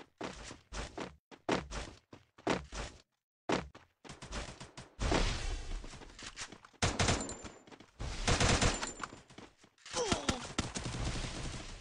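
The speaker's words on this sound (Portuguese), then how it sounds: "Nossa, tá um tiro aqui, ó." Short bursts of rapid gunfire crackle in clusters with gaps between, louder volleys later, against a quiet game-like background in Free Fire.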